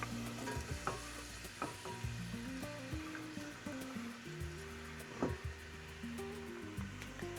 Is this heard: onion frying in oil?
yes